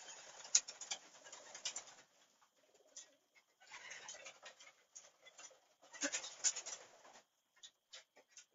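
Pigeons coo in a loft at evening feeding time on a chilly night, with soft, intermittent clusters of throaty coos and rustling at close range and brief quiet gaps between bursts.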